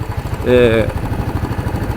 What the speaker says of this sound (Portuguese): uma coisa muito interessante é a suavidade de funcionamento desse motor